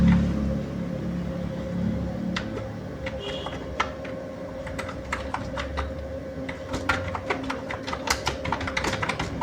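Keys tapped on a computer keyboard in bursts of quick, fairly close clicks, alone over a steady low room hum with no talking.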